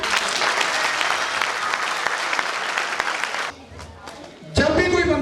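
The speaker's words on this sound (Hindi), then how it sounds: "मुबारक साहब के लिए तालियां जी।" An audience at a Minority Day program claps for Mubarak Sahab, a dense burst of applause lasting about three and a half seconds before cutting off abruptly, followed by a brief quiet and then a loud voice.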